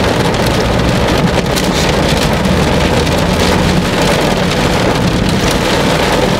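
Heavy rain falls steadily on the road and car during a city drive through Dhaka, a dense, continuous hiss of drops with a low road rumble underneath and no voices.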